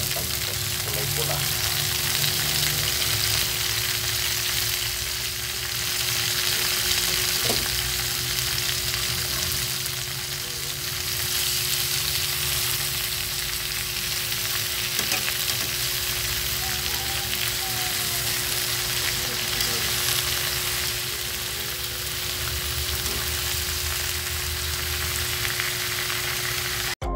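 Red sweet potato leaves fry in a pan with a continuous loud sizzle and crackle that holds steady throughout, over a faint low hum.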